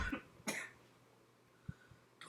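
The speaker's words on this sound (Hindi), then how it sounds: "थोड़ी सी खांसी आ गई थी जी," A single cough bursts out near the microphone, followed by a shorter second cough about half a second later, then faint throat noises in a quiet room.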